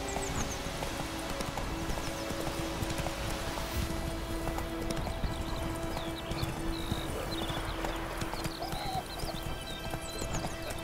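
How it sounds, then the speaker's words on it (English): Horse galloping in the video game The Witcher 3, with steady rapid clip-clop hoofbeats and occasional whinnies over ambient game music and birdsong, moderately loud throughout. "Slow now. Run, Roach."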